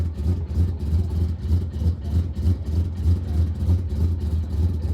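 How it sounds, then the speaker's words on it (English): Mazda RX-3 fitted with a four-rotor rotary engine idling, a steady low pulsing drone with a lumpy, rhythmic throb heard close up and alone, with no talk over it. "I'm in a little RX-3 that's right now running, idling a 4-rotor."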